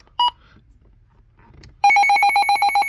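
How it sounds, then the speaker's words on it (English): An HH54 weather radio sounding its telephone-like alert: after a brief chirp and a few faint clicks, a loud, rapid trilling ring starts and continues steadily, close and clear. "we have an HH54. Yeah, it's an HH54. And it sounds more like a telephone."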